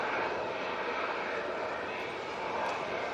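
A Canadian C-130 Hercules turboprop sends out a steady, broad engine roar at Manchester Airport during stormy weather, heard from a distance as a continuous wash of sound.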